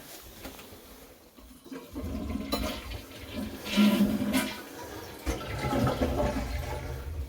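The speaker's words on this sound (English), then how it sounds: "let's flush the toilet up here" A toilet flushing on the third floor of an empty house, rushing water building after a couple of seconds and running steadily to the end, close and moderately loud with no talk over it.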